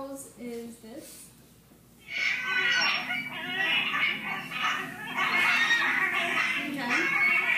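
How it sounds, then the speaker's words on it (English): Seabird call: a few short, faint nasal notes, then a loud, sustained, noisy harsh squawking that runs on for several seconds, close by. "Another one of their calls is this."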